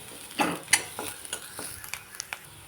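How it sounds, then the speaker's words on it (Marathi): Chutney masala of red chilli powder, turmeric and coriander powder frying in oil for a masala dosa filling, a soft sizzle broken by several sharp stirring scrapes and clinks, close and fairly quiet. "आता ना चटणीला तेल चांगलं परतायलो आपण"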